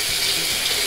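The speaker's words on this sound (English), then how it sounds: "I'm gonna heat the razor up now," Tap water running over a Gillette stainless blade in a RazoRock SLOC safety razor to warm it before shaving, a close, steady hissing splash throughout the brief moment.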